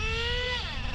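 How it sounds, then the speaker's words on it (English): An O.S. 21 nitro engine in a Traxxas RC car runs lean, giving a steady, loud, high-pitched whine whose tone rises and shifts partway through, heard alone and close up. "you can really hear the engine change, went from rich to lean"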